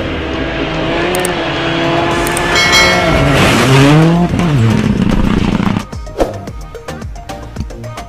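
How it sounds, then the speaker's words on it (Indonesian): A red toy race car comes with a loud racing-engine sound that revs with sweeping rises and falls in pitch, then gives way to sharp squeals and clicks near the end. "Mobil balap warna merah."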